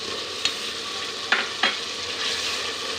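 Tomatoes sizzle steadily in a hot pan with fried garlic and onion, with a few sharp scraping stirs and clicks of a spoon cutting through the frying hiss.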